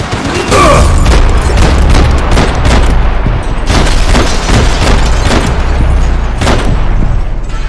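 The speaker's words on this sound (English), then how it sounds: "Grenades." Grenade blasts in the shooter game Max Payne 3, a run of loud booming explosions and sharp gunfire cracks in quick succession over a low rumbling bed, dense and close with no pauses.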